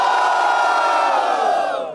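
A crowd at a Brazilian regional freestyle rap battle shouts and cheers for a rapper in a loud, sustained collective roar that fades out toward the end.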